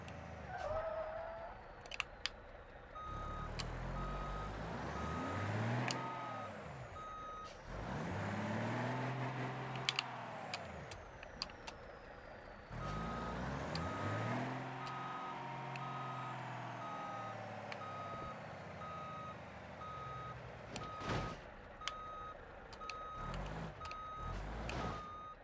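Truck engine in a driving simulator game, revving and shifting through low gears in repeated rising sweeps, with reversing beeps and other game sounds layered on top; no talking.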